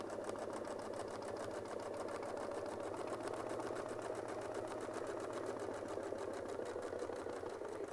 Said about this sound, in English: Okay, so I'm gonna go ahead and I'll stitch back.